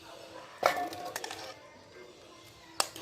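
A spoon stirs potato curry with ground garam masala in a metal pan, making a few sharp clinks and scrapes against the pan with quieter rattles between.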